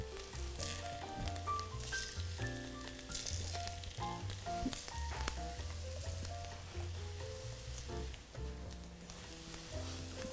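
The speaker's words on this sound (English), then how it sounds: "you want to put these potatoes, you hear that sizzle, you want to hear that sizzle, into this oil" Potatoes sizzle in hot oil, a soft, constant frying crackle running throughout beneath louder background music with melodic notes.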